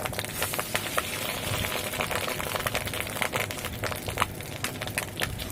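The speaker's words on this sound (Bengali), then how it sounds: "তো দেখতেই পাচ্ছ কিভাবে ফাটছে মাছের ডিমটা দেওয়ার পরে" Fish roe rubbed with salt and turmeric fries in hot oil in a wok, a loud continuous sizzle broken by rapid irregular pops and crackles, close up and with no talking.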